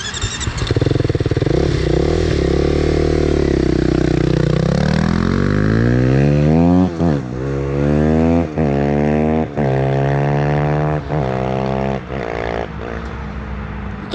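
A loud KTM motorcycle with an aftermarket FMF exhaust starts up and revs hard, its raw, throaty exhaust rising and falling through several sharp throttle blips.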